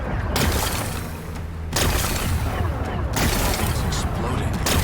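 A rocky explosion in Horizon Forbidden West booms and crackles in repeated loud bursts of blast and scattering debris, close and rough, with a voice talking among the blasts.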